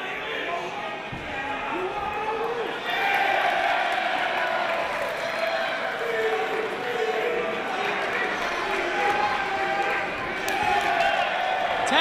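A capacity crowd roars and cheers inside the Pennsylvania National Guard Armory at a tag team wrestling match, a steady wall of loud crowd noise with a commentator talking over it.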